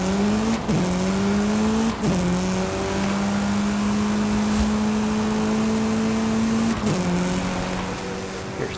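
Engines race in a video game with a Nissan GT-R in the field, steady tones rising through gear shifts and clunking at about 0.7, 2 and 6.8 seconds, with tire noise underneath.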